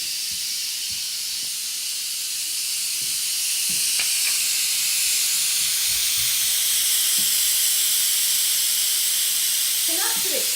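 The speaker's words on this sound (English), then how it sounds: "So we're going to do a pressure release and I'm going to back away." Steam hisses loudly and steadily from the pressure release valve of a Crock-Pot Express pressure cooker making chili, a broad continuous rush that swells slightly and holds for about ten seconds, with faint clicks and a brief voice near the end.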